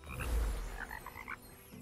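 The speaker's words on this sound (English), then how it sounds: "they are literally frogs" Frogs croak at a pond in the video game Kena: Bridge of Spirits, a few quick repeated croaks in a short rhythmic burst over a low rumbling ambience.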